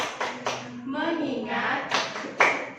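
A primary school class claps a rhythmic 'tepuk fokus' routine in Indonesian, sharp group claps in short sets separated by children chanting words in unison, loud and close in a classroom.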